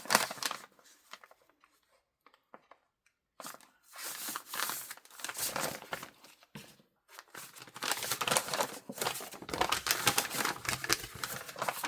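Paper pages for Christmas journals are folded and creased in bursts of crisp rustling, crinkling and sliding, with a quiet pause early on and busier handling toward the end.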